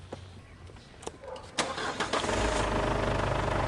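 A Ford Everest engine cranks with a few sharp clicks and turns, then catches and settles into a steady, close idle rumble.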